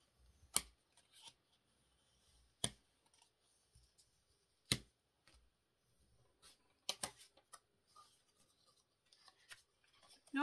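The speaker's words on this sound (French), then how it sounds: "Vous marquez bien vos plis." Paper is folded back and forth into valley and mountain pleats and the creases are pressed firmly, giving sparse, sharp crinkles and crisp snaps scattered across a quiet room, a few louder than the rest.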